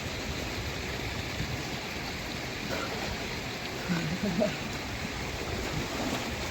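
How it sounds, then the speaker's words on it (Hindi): Falling water of a mountain stream in Uttarakhand gives a steady, broad rushing noise at moderate distance, with a brief faint voice partway through. "पानी गिरता है"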